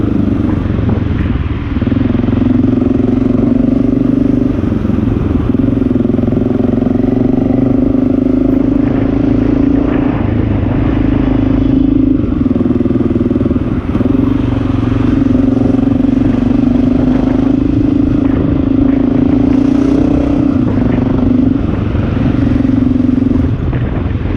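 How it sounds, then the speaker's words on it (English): A Honda XR650L motorcycle with a Lex aftermarket exhaust idles and runs steadily, a loud, close, throbbing single-cylinder drone with slight pulses in rhythm, no talking. "I love this Lex exhaust."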